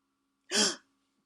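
A single imitated shock gasp, a sharp breath drawn in through the mouth and let out through the nose, like the reflex on plunging into cold water, performed once, close and fairly loud, then silence.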